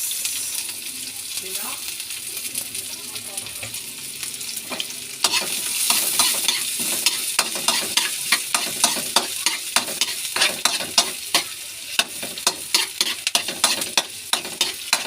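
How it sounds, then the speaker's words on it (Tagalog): Ground pork being stirred and fried with onion in a pan, with a continuous hissing sizzle, then a long run of quick, regular spatula scrapes and clacks growing louder near the end. "Ayan, haluin ng haluin. Halo-halo. Lagay natin yung sibuyas."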